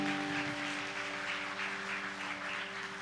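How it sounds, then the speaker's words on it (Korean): Congregation applauding at a church service as an outgoing group leader comes forward, with soft, distant clapping throughout and a steady tonal hum beneath. "큰 박수 부탁드립니다."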